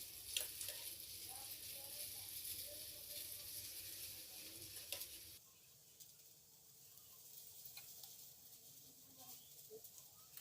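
Stuffed bitter gourd fries in oil in a pan over a medium gas flame, giving a soft, steady sizzle that drops to a quieter crackle partway through, heard alone and fairly faint.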